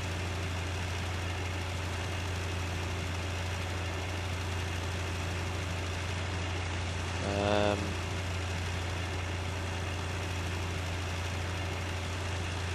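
A steady, low engine drone from a tractor being driven in Farming Simulator 2013 runs continuously throughout, with a brief tonal harmonic sweep rising midway as the engine revs, and no talk over it.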